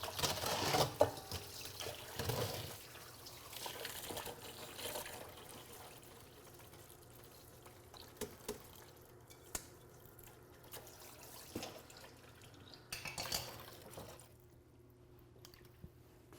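Water is poured and drips while food is washed in a kitchen for indigenous Texan cooking, a quiet trickle broken by scattered soft splashes and individual drips.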